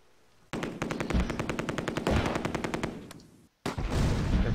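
Sustained machine gun bursts in a World War II airborne campaign battle at Oosterbeek landing zone, rapid repeated shots rattling loudly for about three seconds, a brief pause, then another burst resuming with no talk.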